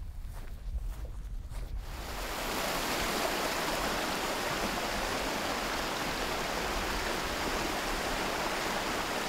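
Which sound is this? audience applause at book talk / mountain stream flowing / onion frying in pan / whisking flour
mountain stream flowing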